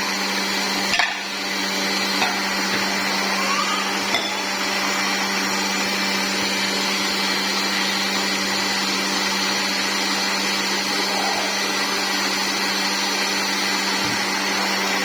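A blender blending banana, dates and water whirs continuously at a steady pitch, loud and close, with a couple of brief knocks near the start.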